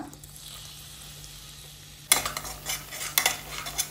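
Onion frying in a couple of spoons of oil in a kadhai, heard as a close, steady sizzle with stirring bursts that start abruptly after a quiet lead-in, with no talking.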